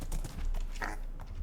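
Horse hooves clip-clop in the Minecraft video game, a quick light series of hoof taps lasting little more than a second.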